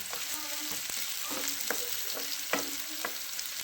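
Onions roasting in a pan for sangari sabzi, a steady oily sizzle with a few spoon scrapes and taps spaced through it, close and moderately loud, no talking.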